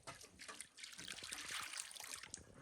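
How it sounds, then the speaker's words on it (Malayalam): Water poured out by hand onto the ground at an old traditional house, a soft continuous trickling and splashing that runs steadily from start to finish at close range. "ഇവിടെ ഇങ്ങനെ വെള്ളം ഒഴിക്കും."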